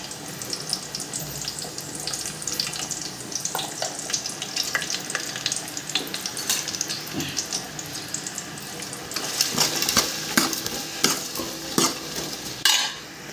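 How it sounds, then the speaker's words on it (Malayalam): Onions frying with rock salt while being stirred, a continuous close sizzle broken by frequent clatters and scrapes of a spoon against the pan, growing busier toward the end. "ഒരു കല്ലുപ്പിട്ടിട്ട് നന്നായി ഇളക്കി മൂടി വെക്കാം."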